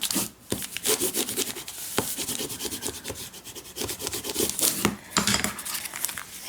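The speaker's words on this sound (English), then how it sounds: "okay, burnishing." A tool burnishes a notebook cover made from paper bags with quick back-and-forth rubbing strokes, a close, papery scraping rhythm with short pauses.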